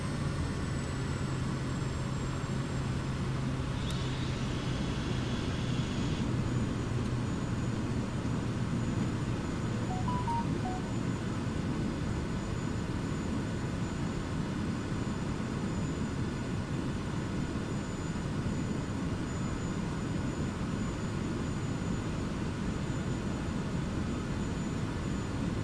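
A light aircraft with flaps down and throttle closed, descending toward a grass runway in Microsoft Flight Simulator, gives a steady broadband engine and wind rush. It stays constant and moderately loud for the whole stretch, with no talking.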